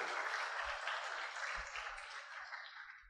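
A church congregation applauds during a sermon, a dense, steady wash of clapping at moderate level that holds for about three seconds and thins slightly toward the end.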